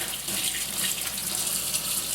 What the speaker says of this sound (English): Get some water running. Warm. Not cold, not hot, but warm water.